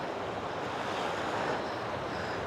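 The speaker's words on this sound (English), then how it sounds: "It is pretty windy out here. Look at the white caps." Steady rushing wind mixes with the wash of whitecap waves on a lake shore in Michigan's Upper Peninsula, a continuous broadband roar without breaks or voices.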